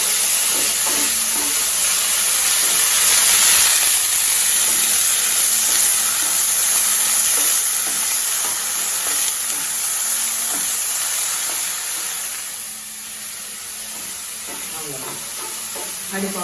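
Broccoli stir fry sizzling in a pan on the stove, stirred with a wooden spoon, with a continuous frying hiss and scraping stir sounds throughout that ease off toward the end as the heat is lowered.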